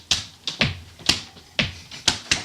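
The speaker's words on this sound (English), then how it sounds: "Why didn't you tell me I had a loud clap, man?" Sharp, loud hand claps snap out in an irregular series of about eight, each crisp and bright with a quick decay, close by and with no talk over them.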